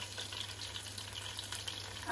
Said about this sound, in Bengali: এটা এই কাঁচামরিচটা এই তেলে ভাজা হইলে একটু ফ্লেভার বের হবে।